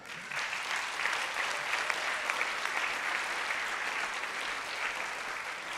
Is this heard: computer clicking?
no